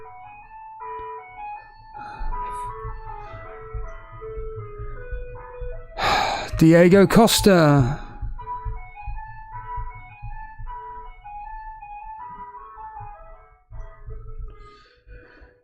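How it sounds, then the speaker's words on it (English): An ice cream truck's chime melody plays a Christmas tune in a steady, looping run, with a loud burst of excited voices cutting in partway through. "an ice cream truck is playing Christmas music."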